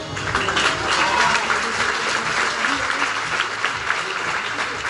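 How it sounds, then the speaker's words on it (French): An audience at a club's evening label award ceremony applauds the recipients, steady full clapping from a sizable crowd throughout, with faint voices mixed in. "Et on les applaudit tous, s'il vous plaît"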